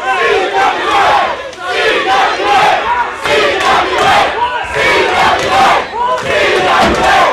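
A wrestling crowd at a hardcore bout chants and roars in rhythmic, swelling waves, loud and dense, with repeated pulsing shouts rising and falling across the whole stretch.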